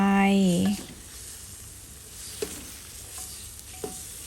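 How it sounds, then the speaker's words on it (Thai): Beetroot and fresh coriander stir-fry in a pot with a soft, steady sizzle, broken by a few light scrapes and knocks of stirring after a brief tone at the start. "ผัดให้สุกค่ะบีทรูทก็สุก ผักชีก็สุก"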